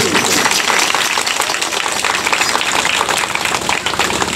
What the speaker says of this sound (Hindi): पूरा परिवार बनना तो जोर से ताली खड़का के देखे